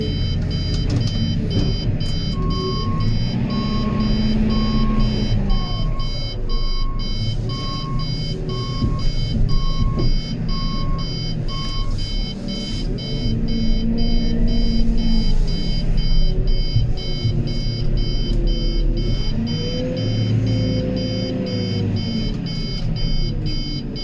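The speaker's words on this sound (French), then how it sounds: "Désolé pour le bip bip." A feed mixer wagon for dairy cows emits a steady series of short, evenly spaced beeps over heavy engine rumble, repeating for several seconds before stopping.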